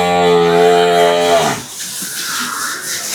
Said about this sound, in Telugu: ఒక్కొక్క గేదెని బయటికి ఇప్పిస్తాను.